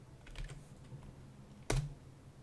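Keys tap on a computer keyboard while Python code is typed: a few soft, faint taps and then one loud, close keystroke, likely the enter key, with no talking.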